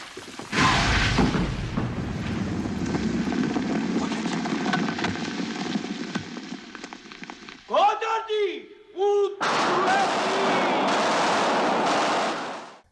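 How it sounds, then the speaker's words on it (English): Artillery and gunfire in a war film battle inside a building, with dense rumbling blasts and rapid shots under a voice, then a brief break with scattered sharp sounds before the barrage resumes. "sounds of artillery filled the rumbling building"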